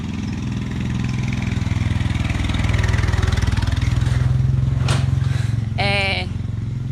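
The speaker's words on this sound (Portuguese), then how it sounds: "Deixa eu passar a moto aqui." A motorcycle engine drones steadily close by for several seconds, swelling and fading as it rolls past, with a brief higher whine and a short tonal squeal near the end.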